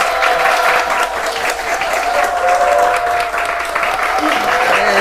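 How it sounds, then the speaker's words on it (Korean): A church congregation at a Sunday worship service breaks into warm, sustained applause, many hands clapping steadily and loudly for the whole stretch, with a faint tone running beneath. "선생님을 뜨거운 박수로 환영합니다."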